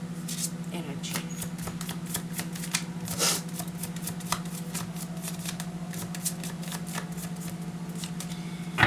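Tarot cards being shuffled, with a steady crisp riffling and flicking of card stock close by and continuing throughout, over a constant low hum.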